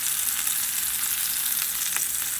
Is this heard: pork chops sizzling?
yes